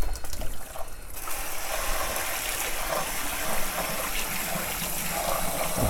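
Running water rinses out a kitchen bowl while vegan lasagna is made, starting with a few clattering handling sounds, then a steady, close gushing stream that carries on to the end.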